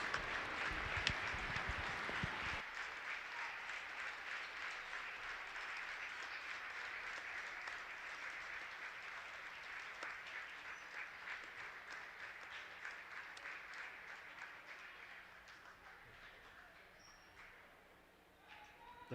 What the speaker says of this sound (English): Please give these seniors and their parents a big round of applause.